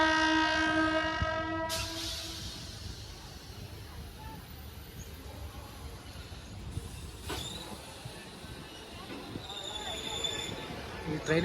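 A passenger local train at Bagalkot railway station sounds a long horn blast at the start, then gives a sustained rumble of wagons rolling past with a brief squeal, heard from the platform.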